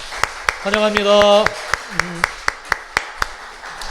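A church congregation claps in a steady, even rhythm to welcome a visiting missionary from Thailand and his family, crisp regular claps continuing while someone speaks briefly over them.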